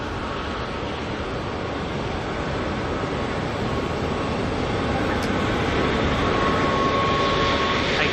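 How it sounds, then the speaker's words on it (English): An ATR turboprop airliner arriving at Auckland Airport from Palmerston North gives a steady, broad engine drone that holds constant throughout, moderately loud with no voices. "ATR making its way in now from Palmerston North."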